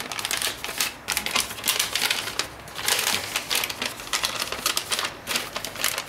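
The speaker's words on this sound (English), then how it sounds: "So fold this like that." Paper being folded for an origami fox, with continuous crisp crinkling and rustling that rises and falls in short bursts, close and fairly loud, with no talking.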